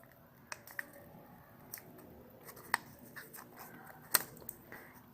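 Paper is folded and creased by hand for an origami Doraemon, giving faint, scattered crinkles and soft sharp clicks at close range.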